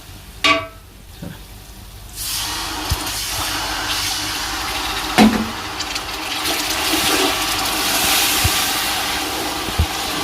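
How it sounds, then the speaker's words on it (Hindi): Water is poured into a hot pot of spiced beef pulao, setting off a loud rushing sizzle that holds steady for several seconds after a few clanks. "अभी थोड़ा सा इसमें पानी डालने वाले हैं"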